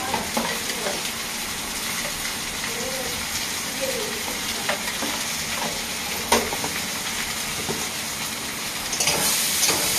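Hilsa fish masala with turmeric, chili powder and salt stir-fries in a pan, a steady close sizzle and hiss with scattered scraping stirs, swelling louder near the end, no talk.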